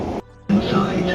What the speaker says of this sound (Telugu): బాగా రోజుల తర్వాత మెట్రోలో సౌండ్ మస్తు అనిపించినండి